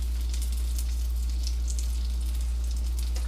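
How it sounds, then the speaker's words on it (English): A dough ball fries in shallow oil in a pan, being rolled around so it coats evenly, giving a steady, close, dense sizzle and crackle with no talk. "the oil to get coated all over the ball so it fries evenly"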